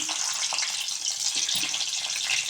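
Garlic going into hot oil with curry leaves, dried red chillies and urad dal for a greens chutney seasoning, giving a steady close sizzle and crackle that holds evenly throughout with no talking.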